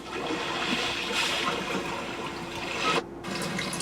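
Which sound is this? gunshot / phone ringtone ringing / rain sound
rain sound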